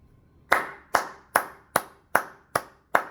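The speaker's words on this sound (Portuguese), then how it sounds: "Aplausos para Leila Pereira." Seven sharp, evenly spaced hand claps ring out close by, a steady rhythmic clapping in honor of Leila Pereira, with no voices.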